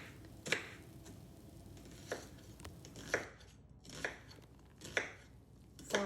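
A knife dices vegetables for salsa guisada on a cutting board, with about seven crisp chops at a slow, irregular pace, close and quiet with no talk.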